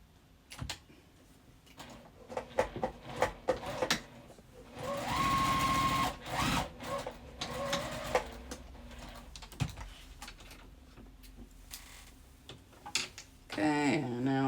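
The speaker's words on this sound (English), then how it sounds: "pin them together, right sides together, and stitch" A sewing machine stitches the front and back facings of a quilted jacket in short bursts, with a longer steady run in the middle, alongside clicks and handling noise and a voice speaking at times.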